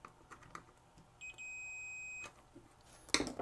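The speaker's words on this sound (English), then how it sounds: "if I short the leads together, I should get a solid beep." A continuity beep from an ohmmeter with its leads shorted together while testing the power switch of a vintage 1979 Snap-on MT241A timing advance light. One steady, solid tone lasts about a second among quiet clicks and handling noise.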